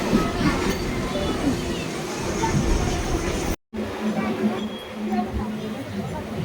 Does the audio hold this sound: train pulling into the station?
yes